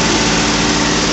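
A John Deere 5055E turbo tractor engine, a 59 HP machine working a Sonalika thresher, runs with a steady, dense, loud drone heard close up for a brief moment, with no speech.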